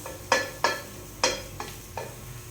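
A spoon scrapes and stirs food with cheese in a pan, giving five sharp separate strokes over a low background sizzle, close by with no voices.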